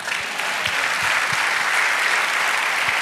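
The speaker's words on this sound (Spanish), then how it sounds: "Dale un aplauso a Dios." A church congregation gives loud, sustained applause during a sermon, a dense wash of many hands clapping throughout.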